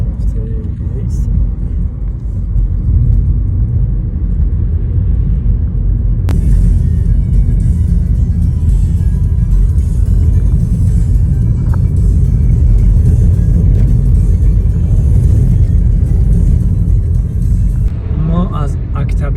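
A car on a long road trip across open plains, its engine and road rumble loud and steady throughout, with people talking inside the cabin over the drone.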